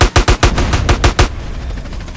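Rapid gunfire in Grand Theft Auto San Andreas, about eight sharp, loud shots in quick succession, followed by a lingering noisy tail.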